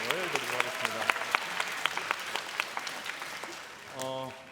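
A church youth group in Gunsan claps after an orchestra performance, a moderate ragged round with sharp individual claps standing out. Talking and a voice run over the clapping, with speech rising again at the end.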